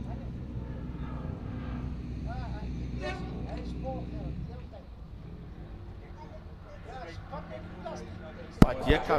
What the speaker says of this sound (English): Makes his way out, the blue, beautiful blue machine, a 2-litre 4-cylinder.